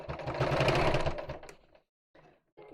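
Home sewing machine stitching fabric, a quick whirring burst of about a second and a half that tapers off, followed by a pause and a couple of short, softer starts.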